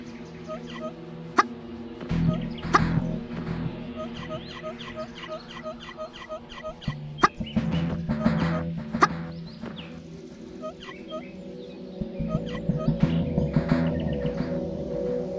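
Cartoon chicken in a Worms video game clucking and squawking repeatedly in quick bursts, layered over game music and sound effects, fairly loud and close.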